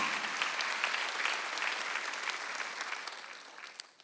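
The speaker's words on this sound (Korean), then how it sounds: "몸된 교회가 자라가는 거 메시고 빨리 박수하세요." A church congregation applauding during a Sunday worship service. Dense, even clapping fills the hall and tapers slightly toward the end, with no voices over it.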